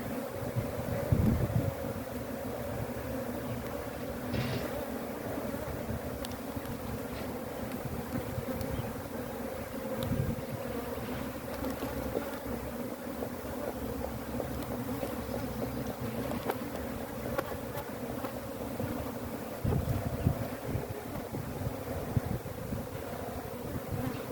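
Steady swarm of bees buzzing around an open, defensive honeybee hive during an inspection, a dense close drone with wind rumble and occasional louder passes near the microphone, no talking.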